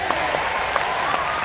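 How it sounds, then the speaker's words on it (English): Steady applause from a panel discussion audience, a dense wash of many hands clapping with a few sharper claps standing out. "Maybe I'll put some clapping."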